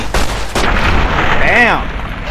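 Gunfire in the video game Fallout: New Vegas, with two sharp booming shots early on followed by a ringing, whooshing game effect, loud and close.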